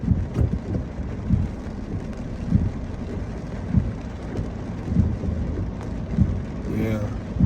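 Steady rain falls in the aftermath of a small tornado during a storm warning in Springfield, Illinois, a dense continuous hiss with low rumbling swells throughout, close and fairly loud, with no talking.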